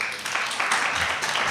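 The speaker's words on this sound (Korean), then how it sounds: "박수 한번 치세요." Brief burst of audience clapping in a high school reading-education class, a short dense patter of hands over a lively room.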